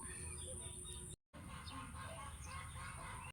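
Chickens cluck and squawk close by amid steady farmyard background noise, with a brief dropout partway through.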